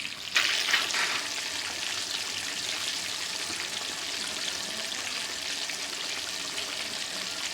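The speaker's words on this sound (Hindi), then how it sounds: "माशाल्लाह से बड़ी अच्छी फ्राई हो रही है।" Masala fish fries in a pan of hot oil, a steady loud sizzle and crackle that keeps going throughout after a brief stronger burst at the start.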